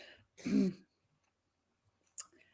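A single throat clear up close, a short rough burst, followed by quiet and a faint click near the end.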